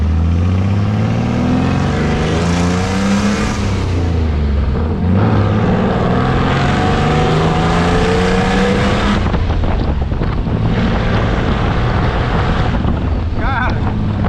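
A Furlan SSK 1929 replica car drives along with a loud engine note rising and falling through gear changes, buffeted by heavy wind noise across the microphone.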